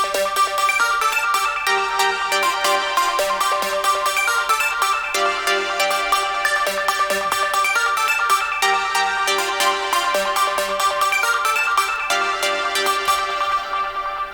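Trance synth parts play alone: a sub lead, a floaty lead and chord stabs. They form a dense, continuous, loud texture with rapid rhythmic stabs and steady sustained tones throughout.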